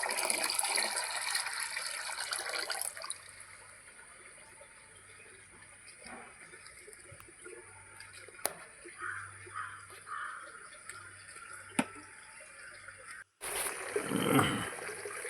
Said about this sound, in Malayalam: അഞ്ച് ലിറ്റർ വെള്ളത്തിലേക്ക് ഒഴിച്ചിട്ട് നമുക്ക് ചെടികൾക്കെല്ലാം ഒഴിച്ചു കൊടുക്കാം